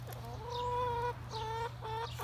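Chickens cluck in a few drawn-out, rising calls over a low steady hum, fairly close and moderately quiet.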